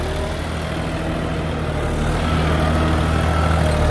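Diesel engine of a John Deere 5310 4WD tractor running steadily with a deep low hum and constant rumble, loud and close, no talk over it.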